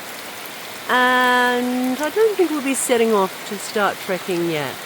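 Rain falls steadily on a jungle camp in Laos, a soft continuous hiss beneath someone talking close by.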